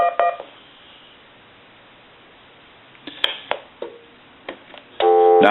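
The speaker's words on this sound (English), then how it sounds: "If we access the speakerphone and we press memory, it's going to dial 911." Speakerphone memory button on a Spirit of St Louis Aviation telephone auto-dialing 911, giving a short series of separate DTMF tone beeps followed by a louder sustained tone at the end, with no talk.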